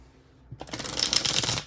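A Mystic Love Oracle card deck being shuffled, a quiet start giving way to a close, steady flurry of riffling card flutters for about a second.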